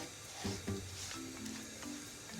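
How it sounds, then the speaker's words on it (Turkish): Semolina and flour roast in oil for helva, giving a soft, steady sizzle with faint scraping stirs. It stays quiet and close throughout. "yağla şeyi unları kavuruyoruz irmik unu"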